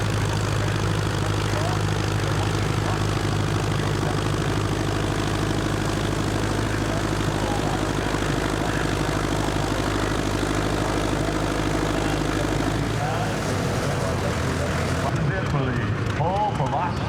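A John Deere 80 tractor engine roars heavily under load as it drags a weighted sled at a pulling competition, with a constant deep rumble through most of the stretch and crowd or announcer talk over it.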